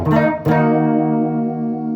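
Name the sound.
electric guitar bridge pickup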